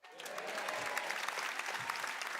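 Applause from the parents in a comedy-show audience, a steady, dense wash of clapping that starts abruptly and holds for a couple of seconds with no voices over it.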